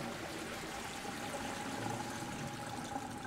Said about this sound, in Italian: qualcuno ha scaricato l'acqua